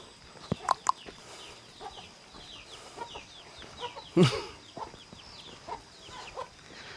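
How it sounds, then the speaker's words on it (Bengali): Hill chickens cluck and squawk in short bursts close by, with one louder squawk partway through, over a busy outdoor bed of chirping birds, in a hill village in Mizoram. "এই যে পাহাড়ি মুরগি বা মোরগ"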